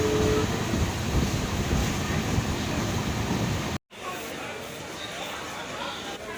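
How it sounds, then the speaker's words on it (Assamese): The Dibrugarh–Naharlagun Express, an Arunachal AC superfast passenger train, rumbles along in a loud, continuous broadband roar, with voices faintly mixed in. The roar cuts out for an instant, then resumes at a lower level. "আমি ডিব্ৰুগড় আৰু নাহৰলগুন এক্সপ্ৰেছত উঠিলোঁ"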